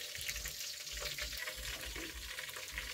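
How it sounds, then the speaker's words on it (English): Cabbage cooks in a pan, a faint steady frying sizzle with soft rhythmic stirring scrapes heard at a distance. "now she want to cook cabbage."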